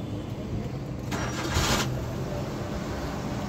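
A car with a CAN bus network fault, sitting in neutral, is started: a short, bright cranking burst rises over a steady low background hum, then settles back into the idle murmur.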